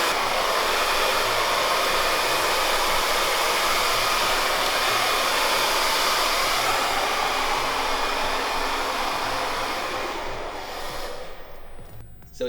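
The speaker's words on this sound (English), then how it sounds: "So we finished blow drying" A hair dryer roars steadily and loud at close range while a round brush smooths men's curly hair in a salon, then cuts off near the end.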